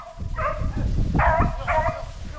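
Hunting dogs bark during a wild boar hunt in rural Brazil, with about three loud, close bursts of barking and yelps over a low rumble of outdoor noise.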